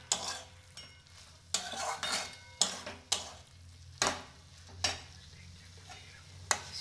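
A spoon scrapes and knocks through a dryish chicken masala as coriander leaves are stirred in for a street-style kati roll filling, sharp clacks every second or so over a quiet background sizzle, close by.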